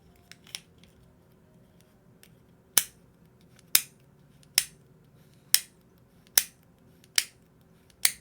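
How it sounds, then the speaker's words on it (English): Sharp clicks snap close into a microphone, about seven crisp, evenly spaced clicks following a few fainter ones, with a low background hum and no talk. "Sorry, I'm clicking into the mic."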